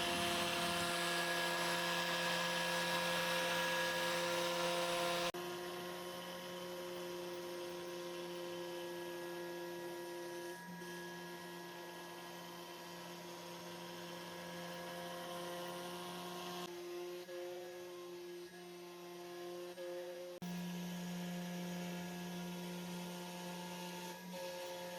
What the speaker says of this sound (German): Und das Ganze geht doch recht flott, trotz eines nur 6 mm Fräsers.